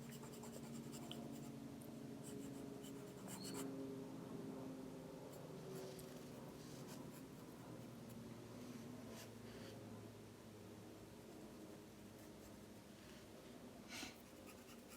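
Conté pastel pencil scratching and rubbing across paper while coloring, a continuous close, faint scraping texture with soft strokes and no voices.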